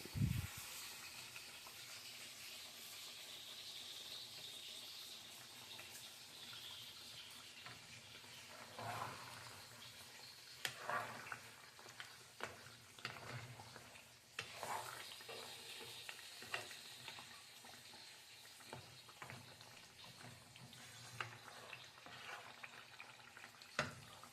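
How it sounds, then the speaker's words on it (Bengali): Onions frying in a pan, a soft continuous hiss and sizzle with occasional stirring scrapes and knocks, faint and steady throughout, no talking. "এখন আমি পেঁয়াজ দিয়ে দিচ্ছি"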